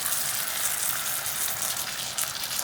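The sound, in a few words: pasta sauce boiling in pot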